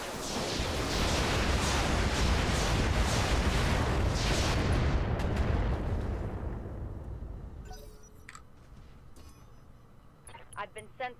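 A barrage of missile launchers, MRMs, firing in the mech combat video game Roguepoint, a dense, loud, continuous roar of overlapping launches and blasts for several seconds, then tapering off into scattered smaller pops and bursts.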